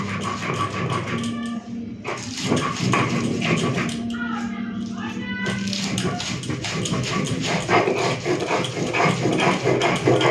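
Repeated rough grinding and rubbing of a grinding stone over crunchy prawn heads, a rhythmic scraping close by, with a voice speaking partway through.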